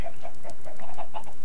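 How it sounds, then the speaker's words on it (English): Minecraft chickens in an FTB mod pack cluck in a rapid series of short, repeated clucks, loud and close, for about a second and a half. "And I got lots of chickens."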